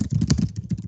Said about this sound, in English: We can hear you typing now, Daniel